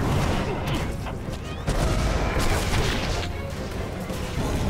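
Rapid gunfire from a firefight in the video game Prototype 2, a dense, continuous barrage of shots and crashes that fills the whole stretch, loud and close, with game voices faintly mixed beneath.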